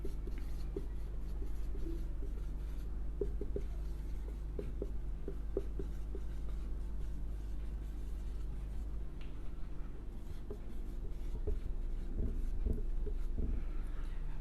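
Pen writing out lines of C program code by hand, soft scratchy strokes and light taps close by over a steady low hum, with a brief murmur of a voice.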